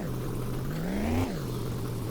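Knackered car engine in My Winter Car with a possible exhaust problem, humming steadily, rising in a short surge of revs, then settling back to a lower drone, close and continuous.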